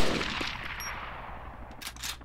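Distant gunfire in the DayZ Epoch game rattles in short bursts against a steady rushing background, a couple of sharper cracks near the end.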